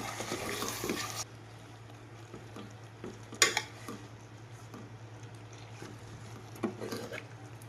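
Fish curry (patola machali rassa) being stirred with salt in a pan: soft intermittent scraping and tapping, with one sharper knock midway, quiet and close with no talking.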